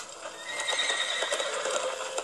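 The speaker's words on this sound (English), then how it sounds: "We follow horse, Keemooshabee." Horse neighs and whinnies steadily under an open outdoor ambience, with faint clip-clop of hooves mixed in, fairly close and continuous with no talking.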